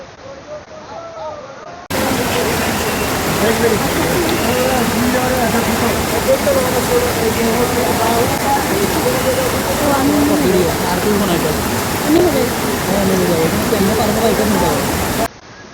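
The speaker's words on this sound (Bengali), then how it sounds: "দর্শক জাস্ট ঝর্ণাটা একটু দেখেন, কি ওয়াইল্ড একটা ঝর্ণা।" Wild Suptodhara waterfall in Sitakunda, a loud, steady rushing roar of falling water close by, with a voice talking briefly before it swells in.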